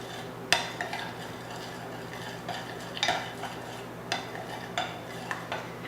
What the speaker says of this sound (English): add a little bit of our vanilla extract and a large pinch of our fleur de sel, and stir that all together